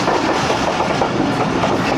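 Awam Express passenger train running near Kot Lalu railway station in winter, with a steady loud clatter and rumble of wheels on track throughout, heard from on board.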